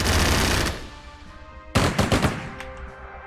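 Gunfire in the strategy game Strategic Mind: Spectre of Communism: a loud volley at the start, a pause, then a sharp cluster of rapid shots that trails off.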